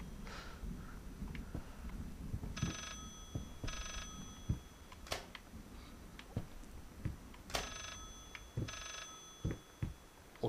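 An old telephone rings in the horror game Layers of Fear, faint bursts of bell trilling repeating at intervals amid scattered footsteps and knocks, with no talk.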